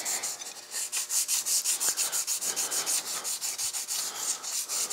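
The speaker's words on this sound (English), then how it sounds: "I've got some 400 grit. I'm just gonna block sand them out." Primered sheet metal body pieces for a custom AWD 1951 shoebox car being block sanded with 400 grit sandpaper: a close, rhythmic back-and-forth rasping, with steady even strokes repeating throughout.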